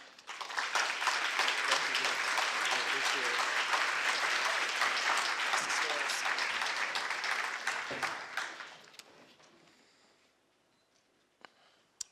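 An audience gives Jeff Robinson a dense, sustained round of applause as he is welcomed to the stage at an ACLU talk. The clapping holds strong for about eight seconds, then thins and fades into near silence with a few stray sounds.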